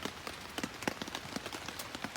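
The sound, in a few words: rain falling during a typhoon camp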